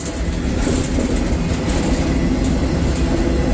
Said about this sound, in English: But I'm on an eastbound train, I think.